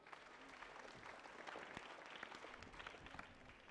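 Congregation applauding during a Sunday church service, steady dense clapping from many hands that fills the room evenly, fairly faint and distant, with no speech over it.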